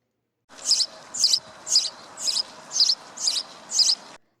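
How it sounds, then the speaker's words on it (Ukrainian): Seven bright, high chirps from a sparrow calling close by repeat at an even pace over a soft background hiss. "Це цвірінькає горобець."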